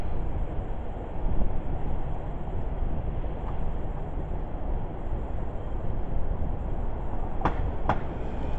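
A train rumbles past at a station near Namba Park in Osaka, a loud, steady, close roar of rolling cars with a couple of sharp metallic clanks near the end.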